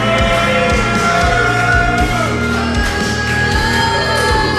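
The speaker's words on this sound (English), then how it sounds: "What does Sean ever do to this crowd for them to boo him like this?" A wrestling crowd at a ProSouth Wrestling event jeers wrestler Sean Christopher with loud, sustained shouts and boos mixed with whoops, a dense, close roar of many voices.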